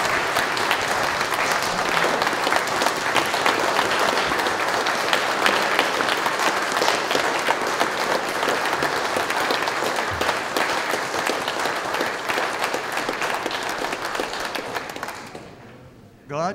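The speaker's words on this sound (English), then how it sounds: "let's join in a loud clap of appreciation" A church congregation at a Sunday worship service claps loudly and steadily for about fifteen seconds before the applause fades out, with a few voices mixed in.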